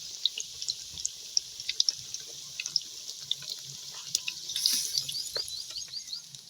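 Hot oil splattering and crackling as pakoras fry over a high flame, a steady busy sizzle with frequent sharp pops, close and moderately loud, with no talking.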